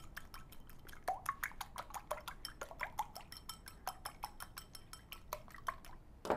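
Egg beaten in a bowl with a utensil, quick rhythmic clinks and wet taps repeating steadily at close range and low volume, no voices.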